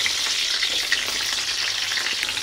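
Potatoes fry in hot oil for a mutton kosha, making a loud, steady, dense sizzle with no talking.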